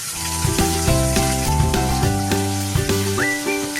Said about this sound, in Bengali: তেলে আমি জিরে ফোড়ন দিয়ে দিয়েছি